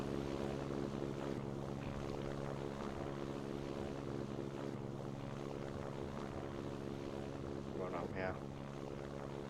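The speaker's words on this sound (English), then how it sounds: "Let's go ahead and we'll throttle up." A firefighting aircraft's propeller engine in a video game drones steadily as it throttles up, a constant loud hum throughout, with a brief voice near the end.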